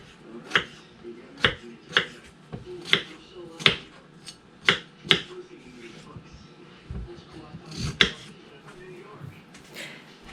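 A knife chopping peeled potatoes into bite-sized pieces for vegetable soup, sharp cuts against the board in an irregular rhythm of roughly a dozen strokes, close and fairly crisp, with soft handling noises between them.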